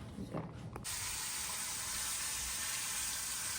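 Bacon sizzles in a pan, a steady dense hiss that starts abruptly after a brief moment of quieter background noise and holds evenly to the end.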